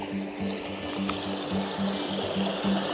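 A river flows past the Hirtenbrunnen spring on the Urwaldpfad Vessertal forest trail in Thuringia, a steady close rush and trickle of water running without pause, with no talk.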